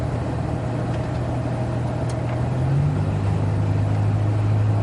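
A car climbs a hill under steady load with a constant, loud engine drone. The pitch rises slightly partway through, and no one speaks.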